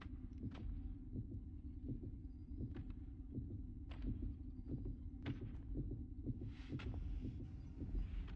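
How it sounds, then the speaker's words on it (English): A tense heartbeat pulses in the horror video game Little Nightmares, a steady run of soft, low, muffled thumps with a quiet hum underneath and no voices. "You hear that heartbeat?"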